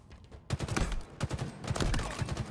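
Rapid gunfire rattles in Halo Infinite during a multiplayer capture-the-flag match. Dense bursts of close shots come in quick succession, with brief gaps between volleys.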